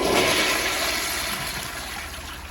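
A 2004 American Standard Afwall toilet flushes in one continuous rushing surge of water that gradually eases over a couple of seconds, heard close and without voices.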